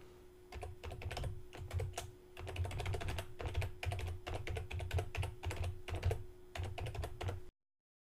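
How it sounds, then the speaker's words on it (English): An email address being typed on a computer keyboard, quick irregular bursts of close key clicks with brief pauses between them, then an abrupt stop. "type in your website email address"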